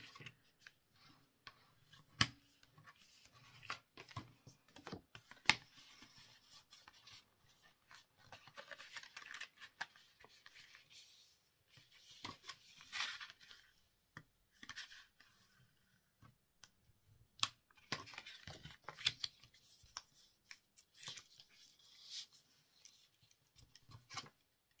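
Paper is folded in half to form small pockets for a handmade flipbook or happy-mail craft. Faint dry rustles and crisp creasing ticks come in scattered bursts at close range, with no talking.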